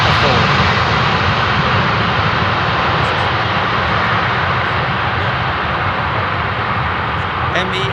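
Mesa Airlines jet airplane at a runway entry point, a loud, continuous broadband engine roar close by that holds steady throughout, with people talking underneath.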